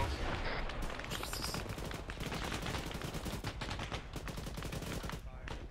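Sustained automatic gunfire in the military video game Arma 3 during a nighttime milsim joint operation, dense rapid bursts with sharp individual shots running continuously and loudly throughout, faint voices buried underneath.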